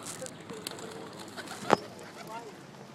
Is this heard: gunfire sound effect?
no